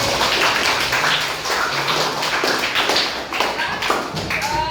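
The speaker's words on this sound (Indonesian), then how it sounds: "beri tepuk tangan buat Freddy" Students in a classroom give a round of applause to a classmate, dense, sustained clapping from many hands that continues throughout and softens slightly near the end.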